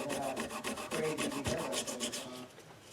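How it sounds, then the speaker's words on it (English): Folded 1000 grit sandpaper polishes the frets of a Fender Squier guitar, a close, steady back-and-forth rasping rub with rhythmic strokes, alone and fairly loud. "I'm just going to polish these frets"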